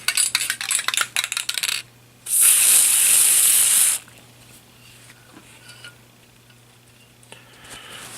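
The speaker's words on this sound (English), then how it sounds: "blast this dude with some oil" Aerosol oil sprayed onto an AR-15 bolt carrier: one steady hiss of about a second and a half, loud and close, after some metallic handling clatter and followed by quiet.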